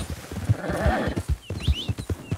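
Horse hooves clip-clopping at a steady walking rhythm in Red Dead Redemption 2, close and fairly loud, with a brief whinny-like sound and light ambient noise, no talking.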